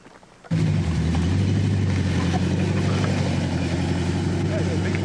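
Ford Mustang doing a burnout on bald tires: after a brief quieter start, a loud, steady engine roar with tire noise kicks in abruptly and holds at a high, sustained level nearby.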